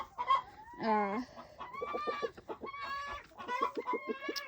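Pasture-raised chickens cluck and squawk in a busy, uneven series of calls close by, with some higher drawn-out notes mixed in.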